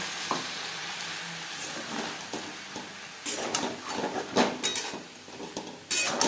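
Sojne data (drumstick) chorchori cooking in a pan over medium-low flame, a steady broadband sizzle with irregular louder scrapes and knocks of a spoon stirring, close and continuous, no talking.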